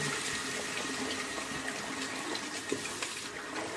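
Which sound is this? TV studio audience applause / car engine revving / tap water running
tap water running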